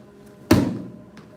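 A single kick strikes a handheld training pad, one sharp, solid thump close by with a brief ringing tail, then a faint tap afterward.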